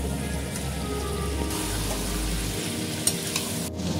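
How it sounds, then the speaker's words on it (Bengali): Chicken coated in turmeric, salt and Kashmiri chili frying in a pan, with a continuous crackling sizzle, a low hum underneath and a couple of sharp clinks of stirring near the end. "এবার আমি চিকেনটা ভেজে নেব।"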